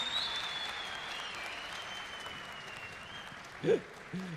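Audience applause on a Turkish singing competition show: a steady, even wash of clapping that runs for several seconds, then a brief voice and a short bump near the end.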